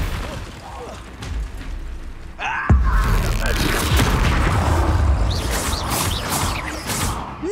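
A Confringo fire spell blasts in Hogwarts Legacy during a goblin fight: a sharp booming burst lands partway through, followed by a dense spread of crackling impacts and rumbling effects over busy game audio.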